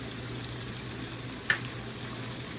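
Chicken pastil fries in a pan with a steady, even sizzle, one sharp utensil clink midway and a few light scrapes of stirring; no voices.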